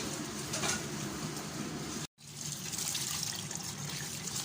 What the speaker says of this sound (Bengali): আমি চালটাকে ধুয়ে দিই এখন